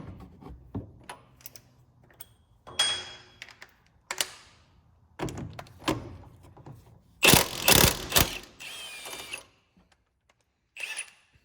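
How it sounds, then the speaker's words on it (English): A ratchet works a castle nut off the drag link of an Isuzu NPR truck, making scattered close clicks and metallic clanks with a louder burst of rapid ratcheting midway. "We'll go ahead and get this first castle nut off."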